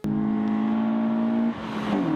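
The 1.6-liter 16-valve engine of a Citroën Saxo VTS 120 hp revs high inside the cabin, a sustained strained tone that drops off briefly and picks up again.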